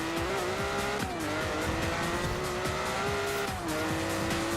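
A Ferrari Testarossa in Forza Horizon 4 drifts sideways, its engine droning loud and steady while the tires squeal in long sustained screeches, the pitch dipping briefly as the car shifts its slide.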